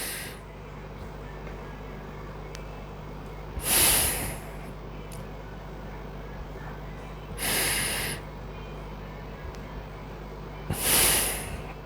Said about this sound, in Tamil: இது தாங்க சாதாரண பிராணாயாமம்